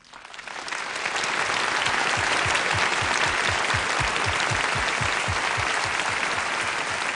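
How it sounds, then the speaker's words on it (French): A studio audience at a French television show breaks into loud, sustained applause, swelling within the first second and holding steady and dense throughout, with no voices over it. "j'aimerais qu'on applaudisse très fort"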